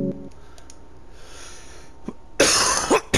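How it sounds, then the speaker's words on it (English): A man who is feeling unwell coughs near the microphone, a short burst of harsh coughs toward the end after a mostly quiet stretch with a faint tone and a few clicks. "Sorry for the coughing, guys."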